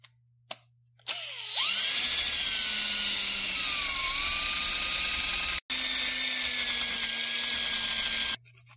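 A wire wheel cleans a spark plug from a Homelite chainsaw clamped in a vise, a loud, steady high-pitched whirring grind that runs for several seconds, breaks off briefly, then resumes before stopping.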